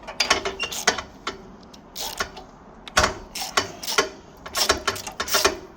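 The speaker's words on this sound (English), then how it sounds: "So you put the socket on, undo it, and then the spark plug comes out inside the socket." A spark plug socket undoes a spark plug on a Hyundai four-stroke engine, giving irregular bursts of close metallic ratcheting clicks and creaks with short pauses between turns and no talking.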